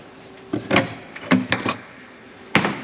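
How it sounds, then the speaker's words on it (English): Exterior storage compartment doors on a Winnebago Sightseer 29R Class A motor home being opened, a few sharp clunks and latch clicks spaced over about three seconds, close and fairly loud, no talk. "We'll get some more of these storage doors open here"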